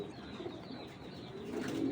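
A grizzle pigeon hen coos in soft, low repeated bursts close by, growing slightly louder toward the end over a steady murmur of background noise.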